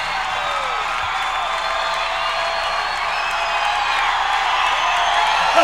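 A concert crowd at a show at the Agora Ballroom in Cleveland, 1978, gives a dense, sustained roar of cheering, whoops and clapping that swells slightly toward the end, loud and continuous.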